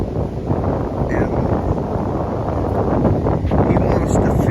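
Strong wind buffets the microphone outdoors at a fence-post installation by an old barn, a steady roaring rumble throughout with someone talking over it.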